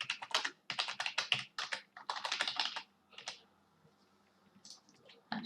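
Rapid close-up clicking of computer keyboard keys in bursts, pausing briefly before a few more sparse keystrokes.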